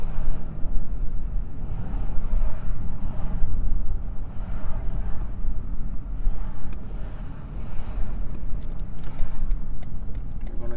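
A BMW 750i V8 M Sport (G12) engine under way on the road gives a continuous low, throaty rumble mixed with road and wind noise, rising and falling slightly as the car drives.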